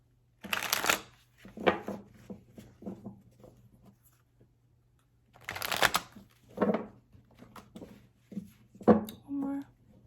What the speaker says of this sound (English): Do 3 more shuffles for Virgo.